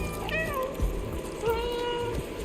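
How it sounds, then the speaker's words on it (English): A cat meows in the video game Stray, two or three drawn-out, close meows over a low ambient background. "there's a dedicated meow button that I rarely stopped pressing"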